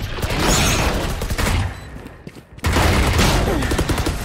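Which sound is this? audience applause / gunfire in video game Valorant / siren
gunfire in video game Valorant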